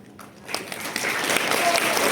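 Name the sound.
audience applause at workshop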